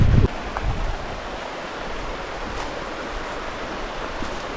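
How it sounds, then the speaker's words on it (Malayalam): The Bhavani river flowing through forest at Attappadi near Silent Valley, a steady broadband rush of water that is moderately loud and constant after a brief bump at the start, with no voices. "ഇത് ഭവാനി പുഴയല്ലേ"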